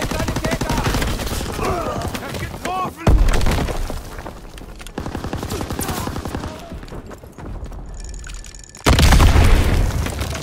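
An ammunition supply explodes in Call of Duty: WWII amid battlefield gunfire, with loud booming blasts and heavy bursts of shooting, voices heard over the chaotic combat noise.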